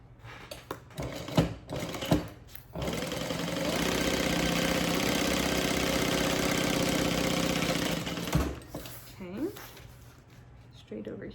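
A sewing machine stitches a handbag seam at a half-inch allowance, running in one steady, buzzing burst of about five seconds, framed by quieter handling noises and clicks before and after.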